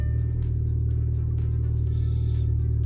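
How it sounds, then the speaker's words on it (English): An Audi A4 B7 engine idles roughly just after an ECU tune flash, a low steady drone heard close and alone, with no voices. "Oh, it's roughing. It's a rough idling."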